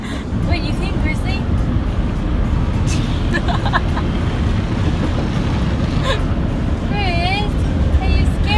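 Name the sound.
automatic car wash running with a car inside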